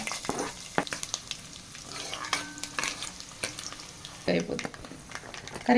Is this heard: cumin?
yes